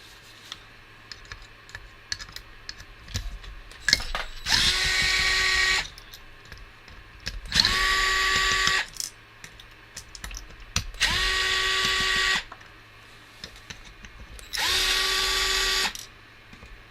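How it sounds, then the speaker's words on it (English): A cordless power drill whirs in four separate bursts of about a second or two each, loud and close, with quiet handling clicks between runs while taking apart a seven-inch toy chameleon. "When in doubt, use power tools."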